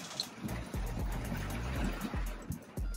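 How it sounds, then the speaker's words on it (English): Hard rain pours onto a car, heard from inside the cabin: a constant wash of water noise with thumping drops and low bumps, close and fairly loud, with no voices. "It is raining so hard."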